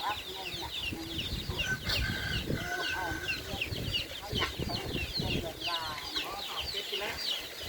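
Chickens clucking and squawking while fighting in a rural Thai village yard, busy overlapping calls and scuffling up close with someone talking over them.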